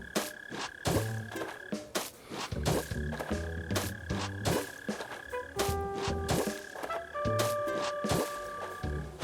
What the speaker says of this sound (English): I do hear a mole cricket.